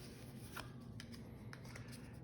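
Board game cards get shuffled in soft, close, papery bursts, a handful of brief riffles and slides over a faint room hum.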